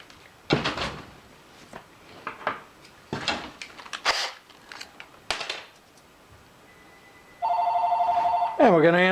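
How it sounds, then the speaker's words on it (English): A telephone rings near the end, a loud steady electronic bell pattern after stretches of knocking and rustling thumps, with a voice briefly starting over it. "And we're going to answer that phone."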